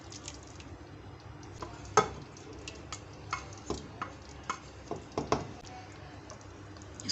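Onion masala being gently stirred into nihari in a pot: soft scraping strokes and light clinks of a spoon against the pot, spaced irregularly over a quiet simmering background.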